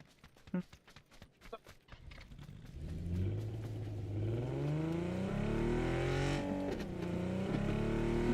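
A car in PUBG: after a few soft footstep-like taps, the engine starts and climbs into a steady, loud revving drone that rises and falls in pitch as the vehicle drives on, with no talk.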